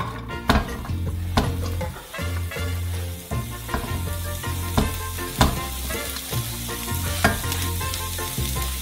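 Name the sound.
vegetables frying in a pan for shawarma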